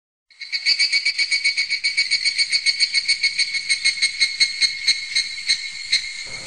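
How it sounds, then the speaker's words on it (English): Cicadas chirp in a loud, continuous shrill drone with a rapid pulsing rhythm, starting abruptly and holding steady as summer ambience in the anime Higurashi. "the chirping of cicadas"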